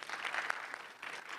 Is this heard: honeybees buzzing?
no